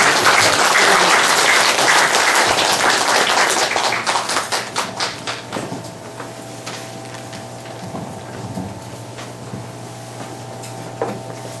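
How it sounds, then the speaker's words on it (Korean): Audience applause at a Korean Buddhist lecture event, loud dense clapping that thins out after a few seconds into scattered individual claps and a quiet room. "박수 한번 쳐주시고요"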